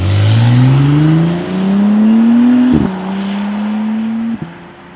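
A McLaren Artura supercar reverses out of a parking space on its electric motor, giving a loud, steady rising whine that holds near and close, broken by a couple of brief clunks, with no engine roar.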